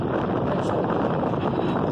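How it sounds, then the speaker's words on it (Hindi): Strong wind blowing outdoors in Karachi, a steady, loud broadband rush with no break, sounding like gusts buffeting close to the microphone. "हवा ऐसे मज़ेदार चल रही है, फुल ज़्यादा हवा चल रही है।"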